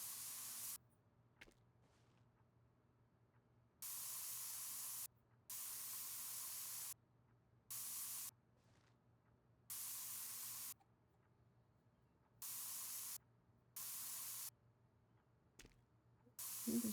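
Aerosol spray painting in the video game Spray Paint Simulator, heard as a series of short hissing bursts of one to two seconds each with quiet gaps between, close and steady, without speech.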